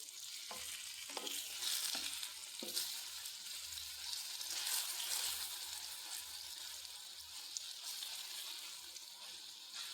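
Ripe plantain pieces frying in ghee are stirred and turned in a pan: a steady soft sizzle runs throughout, with a few light scraping clicks of the spoon early on, fairly faint and without talk.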